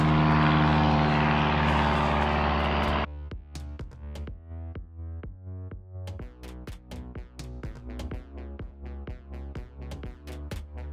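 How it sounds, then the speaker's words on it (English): A low-flying propeller plane drones loudly overhead at first, then fades quickly, leaving a steady rhythmic engine hum in the distance. "What plane is that?"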